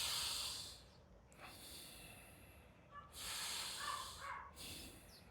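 Slow, deliberate breaths in a tai chi breathing demonstration, several long airy inhales and exhales with hissy, snort-like nasal edges, close and quiet, no speech.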